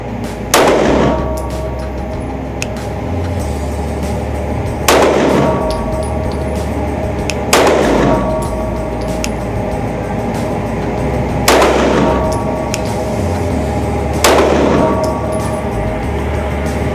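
Five loud gunshots from a Ruger RXM pistol, spaced a few seconds apart in a slow, deliberate string, each a sharp close crack with a short ringing tail.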